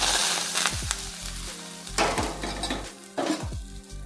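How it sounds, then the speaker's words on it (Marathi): Mustard seeds and curry leaves crackle and sizzle in hot oil for a spicy Puneri vada pav filling, a steady close frying hiss broken by several sharp spoon strokes and clinks against the pan. "मोहरी टाकायची आणि कढीपत्ता टाकायचा"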